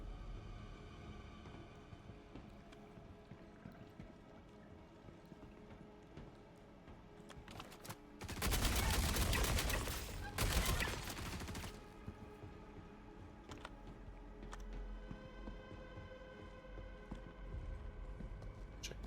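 In the Star Citizen video game, a player's gun lets loose a dense burst of rapid gunfire lasting a couple of seconds midway, loud against an otherwise quiet, low background.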